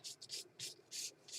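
Short dry scrubbing strokes as a hand rubs across a mixed media art surface, about six quick rhythmic passes, faint and close.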